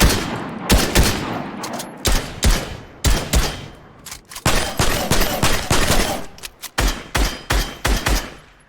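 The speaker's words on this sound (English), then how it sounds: "But yeah, just shooting a little bit." Rapid bursts of gunfire from a gun in the Fortnite battle royale video game, a dozen or so sharp loud shots and short volleys spaced unevenly, each ending in a quick decay.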